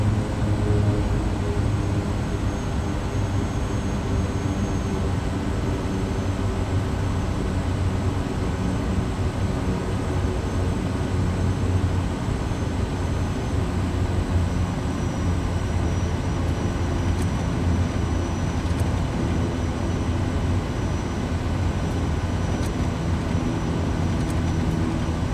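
An airplane taxis in Microsoft Flight Simulator 2020, a steady, loud engine drone with a constant low rumble and hum that stays even throughout, no talking.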